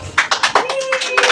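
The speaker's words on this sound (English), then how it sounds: "Clap for them." A classroom audience claps for four scrapbook-making competition winners, a short burst of steady, fairly loud hand claps close by with no talking over it.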